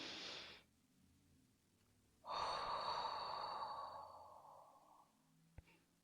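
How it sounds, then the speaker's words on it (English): One slow, deep breath in isolation: a short sharp intake, a quiet pause, then a long audible exhale lasting about three seconds, close and soft. "I want you to take a deep breath."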